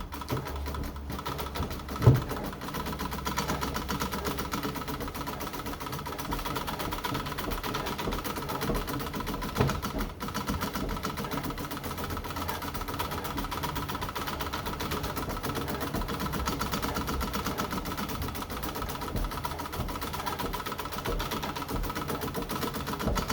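A vintage Pfaff 130 sewing machine, worked by treadle, stitches a scallop pattern with a continuous even mechanical whir and hum, moderately loud and steady, a few faint clunks now and then, and no one speaking.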